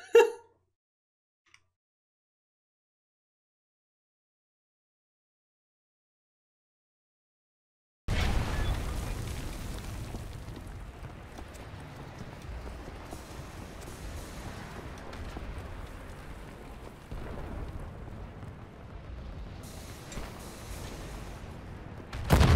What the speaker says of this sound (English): those cannons are blasting us out of the sky